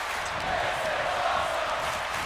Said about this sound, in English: Crowd chanting, this is awesome.